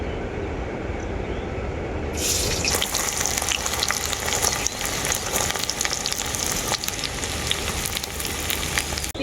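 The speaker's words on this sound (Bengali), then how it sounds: "তেলটা খুব ভালোভাবে গরম হয়ে গেছে পেঁয়াজ কুচি দিয়ে দেবো তেলের মধ্যে" Chopped onion tipped into well-heated oil sets off an abrupt, loud sizzle that stays steady and dense, after a quieter stretch of low frying.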